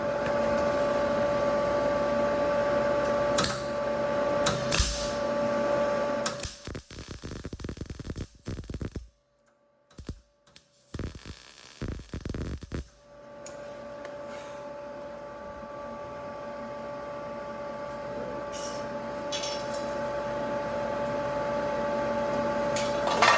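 Wire-feed welder fusing a broken metal coffee table, a steady buzzing crackle of arc welding that runs in bursts, cuts out briefly in the middle, then resumes and grows slightly louder toward the end.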